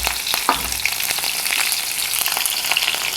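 Mustard seeds and green chili hit hot oil for a spicy Kolhapuri misal, giving a loud, continuous frying hiss with crackles and a few sharp pops.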